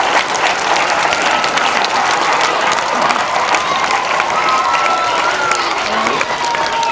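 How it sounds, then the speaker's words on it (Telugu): An audience at a school farewell fest claps loudly and continuously, a dense crowd applause with some faint shouting mixed in. "కాబట్టి ఒక క్లాప్ కొట్టండిగా"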